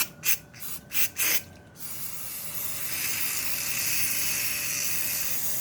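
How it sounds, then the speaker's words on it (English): Four short sharp hisses of a spray paint nozzle, then a longer sustained spray with a steady airy hiss that continues to the end, test-spraying for dipping plastic garden pots. "let me get the nozzles ready and let's do a test spray."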